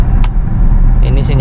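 A 2010 Toyota Innova petrol car is driven, a low steady engine and road hum inside the cabin with a couple of brief clicks and a voice speaking briefly.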